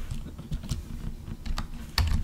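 Quick run of keystrokes on a computer keyboard, close and fairly light, with a firmer tap near the end; no talking.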